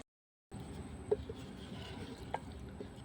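Chicken kosha simmering in a clay pot over a clay stove, a soft continuous bubbling and faint sizzle with a couple of small pops, heard close and quiet.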